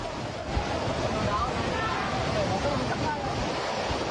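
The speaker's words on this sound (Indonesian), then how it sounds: "Warga merekam saat angin kencang menerjang wilayah Pademangan" Strong wind gusts sweep through Pademangan, North Jakarta, on a Friday evening, producing a continuous broadband rush of moderate loudness. It sounds like wind buffeting the microphone, with slight swells and no clear speech.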